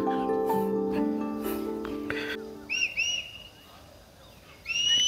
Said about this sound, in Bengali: পাখির ডাক শুনতে পাচ্ছেন তো?